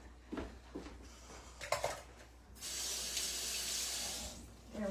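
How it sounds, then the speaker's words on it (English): Kitchen tap running as fingers are rinsed under it, a steady hiss of flowing water lasting a few seconds after some brief clatter and handling noises nearby. "let me just rinse my fingers really quick"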